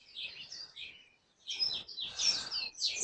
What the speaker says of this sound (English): Lots of bird life here.